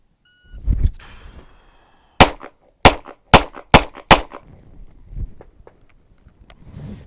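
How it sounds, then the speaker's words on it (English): A short beep, then five sharp pistol shots in quick succession during a timed pistol drill, loud and close, followed by faint shuffling and handling sounds. "I'm going to draw and fire 5 rounds at the number 1."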